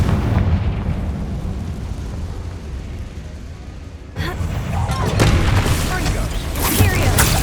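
Confringo spells in Hogwarts Legacy erupt in a rolling roar of explosive fire, followed by a fresh burst of sharp booms and crackling blasts, loud and near, with a voice shouting over the din.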